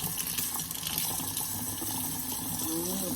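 Cold tap water runs steadily from a faucet in a home bathroom or sink, a continuous broadband splash that stays close and even throughout.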